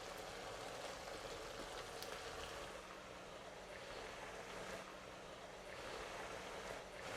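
Sauce for Chinese homestyle minced meat with potatoes simmering and reducing in a pan, a steady, soft bubbling hiss that holds evenly throughout, faint and alone.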